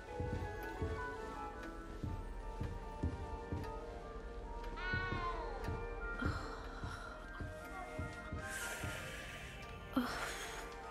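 A cat meows a few times in the video game Hogwarts Legacy. The short rising and falling calls sit over a quiet, busy game background of soft rustles and taps.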